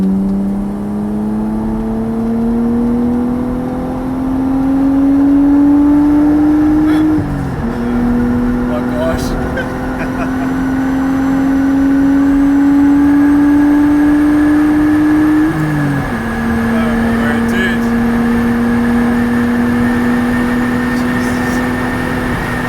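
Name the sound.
RB25-swapped Nissan 200SX accelerating on freeway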